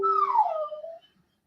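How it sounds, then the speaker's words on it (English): A single drawn-out whimper from a sad dog, a high nasal whine sliding downward in pitch and fading out within about a second, close and alone. "That dog is sad. You can hear him?"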